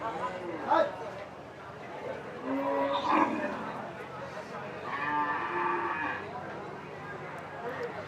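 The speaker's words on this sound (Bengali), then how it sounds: "এখানে একটি গরু দেখা যাচ্ছে সাদা ও কালো মিশ্র কালারের" Cattle at a Qurbani cattle market in Nabiganj, Narayanganj, lowing in several drawn-out moos amid background chatter and voices.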